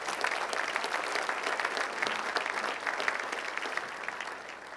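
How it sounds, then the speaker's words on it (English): A city State of the City audience in Hawthorne gives another round of applause, steady mid-distance clapping from a large room throughout, fairly soft and continuous without a clear ending. "Please give them another round of applause."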